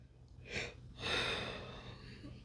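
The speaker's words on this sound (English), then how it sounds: "Excuse the yawn, please." A single drawn-out yawn from one person, a short breathy intake followed by a longer sighing exhale, close and fairly quiet with no talk.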